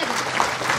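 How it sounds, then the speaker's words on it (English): Parents applaud at a school annual function during an academic procession, a steady wash of clapping from a crowd that fills the short moment evenly. "Thank you everyone for such a warm and cheerful shower of applause."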